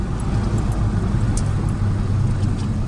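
A 2002 Ford F250 Powerstroke diesel pickup, left sitting for two years, drives and turns around with a steady low engine drone and road rumble, loud and continuous with no talk.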